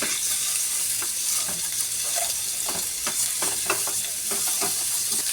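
Eggs fry in a wide kadai with a steady broad sizzle, and occasional scrapes and clinks of stirring come through now and then. The sound is close and runs continuously with no talking.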